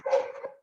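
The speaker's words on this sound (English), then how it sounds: "my neighbor having 5 dogs" A dog at a neighbour's house, one of five kept there, gives a single short bark that trails into a whine, close and alone.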